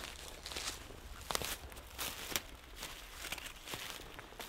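Footsteps of someone walking in a Hazard 4 softshell poncho, a steady series of soft, crisp steps with faint rustle between them, close and moderately loud.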